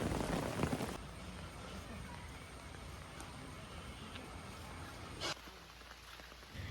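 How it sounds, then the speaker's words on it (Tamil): Rain falls at a scenic spot in Kanyakumari district as a steady, dense patter and hiss, louder at the start and continuing throughout. Faint background sounds sit under it. "எங்களுக்கு ஒரு ட்ரீட் வைக்கிற மாதிரி மழை பெஞ்சிருச்சு"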